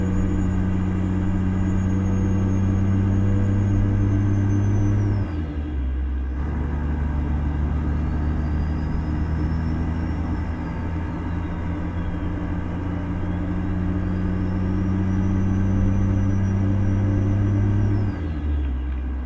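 A Mack B-61 truck with a 600-horsepower ENDT 676 engine in American Truck Simulator labours uphill at full throttle across Arizona, giving a loud, steady low diesel roar with a brief dip and a drop in revs at a gear change, no talk.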